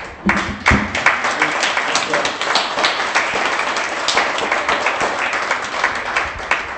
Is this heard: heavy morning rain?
no